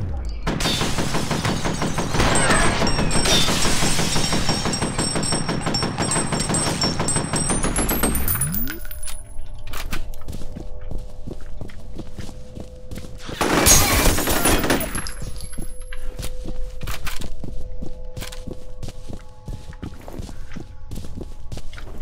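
Gunfire rings out in the video game F.E.A.R., with a dense burst of rapid shots followed later by another loud volley, separated by stretches of clinking shell casings and footsteps.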